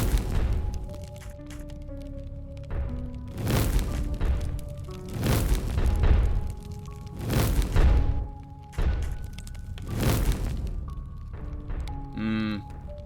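Weapon fire in a dungeon crawler video game, heavy booming shots sounding about every two seconds, each with a long resonant tail over a droning tonal score, and a short warbling effect closing it out.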